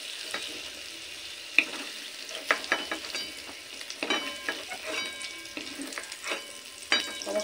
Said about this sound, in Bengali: সবজিগুলো এরকম হালকা ভাজবো।